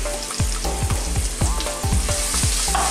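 Red onion and red chili sizzle and fry in hot coconut oil with garlic and ginger, close and steady, with repeated scraping strokes of stirring.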